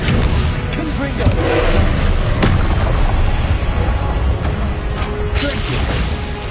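A Confringo blasting spell goes off in Hogwarts Legacy with loud booming bursts over a dense, rumbling battle din. Several sharp cracks stand out against the sustained roar.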